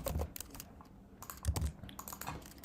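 Fingers type on a computer keyboard in a steady run of light, irregular clicks and taps, close and clear, with no voices over them.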